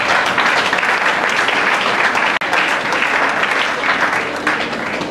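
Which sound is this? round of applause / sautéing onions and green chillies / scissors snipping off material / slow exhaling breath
round of applause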